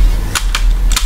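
A shotgun fires in the video game GTA San Andreas, with three sharp, loud blasts spaced unevenly across about a second.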